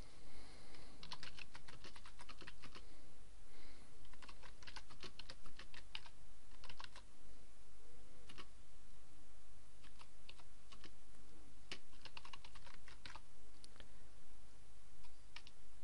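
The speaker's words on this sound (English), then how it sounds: "And then I'm going to type a bit of text in." Text being typed on a computer keyboard, bursts of quick close key clicks with short pauses between them, no voices.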